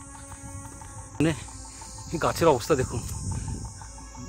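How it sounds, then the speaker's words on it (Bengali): Crickets chirp in a mountain forest on the trek from Munsiyari to Thambri Kund, a steady high-pitched drone running throughout while someone talks over it. "আর শুধু ঝিঝির ডাক"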